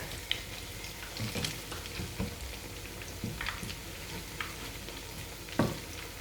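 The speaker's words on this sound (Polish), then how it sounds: "już tak lekko poruszam podczas smażenia" Grated potato pancakes fry in hot oil in a pan with a steady soft sizzle, while occasional scrapes and taps come as the cakes are nudged and shifted, and nobody speaks.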